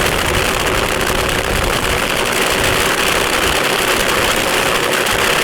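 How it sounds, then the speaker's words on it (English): A drag race car sits at the start line of a nighttime drag racing event, its engine idling loud and continuous with a heavy rumble and no clear talk. "as Mike Hilton pulls the car into forward gear"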